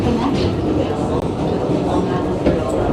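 A New York City subway train rumbles steadily at its last stop in Flushing, a loud continuous roar with faint rattles throughout.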